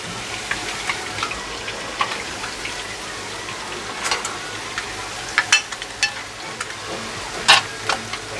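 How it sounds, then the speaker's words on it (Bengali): Eggs fry in hot oil, a steady sizzle broken by sharp irregular pops and spatters that grow more frequent toward the end. "আর ভাজবো না, ভয় লাগে, খালি ফুটে।"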